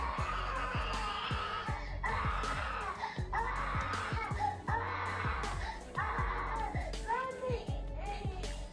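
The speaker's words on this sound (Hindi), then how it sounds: "डरावनी आवाज में चिल्लाने लगता है, जैसे कि इस पर प्रेत आत्मा ने कब्जा कर लिया हो।" A child standing on a bed screams and shrieks in a frightening, possessed-sounding voice, loud and close, in repeated broken bursts over a steady low background hum.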